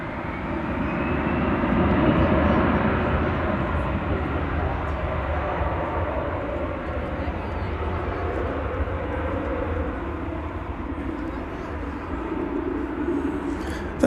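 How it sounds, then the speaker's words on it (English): An Airbus A321 on flight 1588 from San Francisco arrives at Dallas Fort Worth Airport, a broad, steady jet roar that swells slightly and holds loud throughout, with faint voices beneath. "That was flight 1588 arriving from San Francisco on an Airbus A321."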